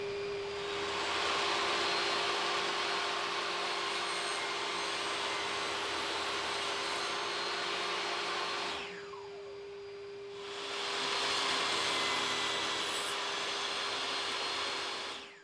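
A saw crosscuts a wood board to length against a miter gauge, its loud, steady motor whine running close throughout, dipping briefly midway before swelling back to full volume.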